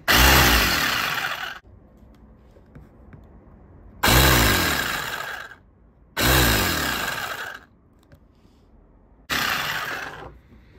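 The starter motor of an air-powered generator with a USB charger runs in four separate bursts, each lasting one to two seconds. Every burst starts abruptly with a loud whirring spin-up, followed by near silence between runs.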